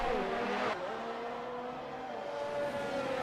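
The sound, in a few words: race car engine sounds glitching in sim racing video game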